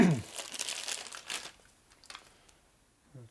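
Plastic eBay mailer package being handled and opened, with short bursts of crinkling and tearing plastic close up, followed by quieter scattered rustles.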